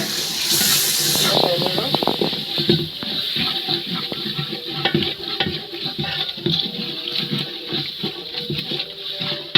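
Chicken meat dropped into a pot and stirred while it sizzles, with a steady hiss and scraping under a person talking nearby; a burst of splashy noise at the start settles into a continuous sizzle.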